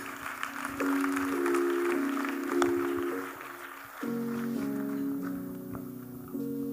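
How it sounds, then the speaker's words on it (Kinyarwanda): A church congregation claps during a youth week service, the applause a steady wash of hand claps beneath sustained keyboard or organ chords that shift pitch throughout. "Reka dukomere Yesu amashyi menshi kubw'ubugingo bugarukiye Kristo."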